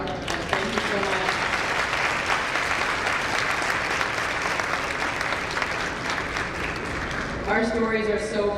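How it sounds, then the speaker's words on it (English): Sustained applause from an audience at a keynote address, dense and steady throughout, with a brief louder swell near the end, some voices mixed into the clapping. "one more round of applause for Dr. Miller"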